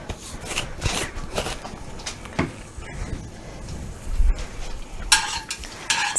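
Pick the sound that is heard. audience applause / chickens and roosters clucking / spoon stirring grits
spoon stirring grits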